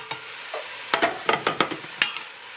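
A utensil scrapes and stirs cooked green beans with garlic out of a pan into a large pot, giving close, irregular clinks and scrapes with a faint sizzle underneath.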